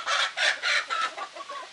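Farmyard chickens and a rooster cluck in a quick series of bursts that trail off into softer calls, fairly close and with no talk.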